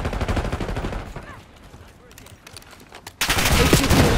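Gunfire from the shooter game Call of Duty Black Ops 6 crackles in rapid bursts, fading to sparse distant shots before a loud, dense burst of fire returns near the end.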